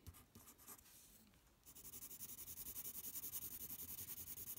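A 2B graphite pencil shades across paper with light, even pressure, giving a steady close scratchy rasp of regular back-and-forth strokes that grows louder and continuous after a softer, uneven start.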